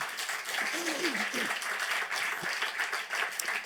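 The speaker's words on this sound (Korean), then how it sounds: "이 모든 영광을 하나님께 박수로 올려드립시다." Scattered applause from a church congregation at a Sunday service, steady and moderately loud, with a speaking voice audible briefly over the clapping.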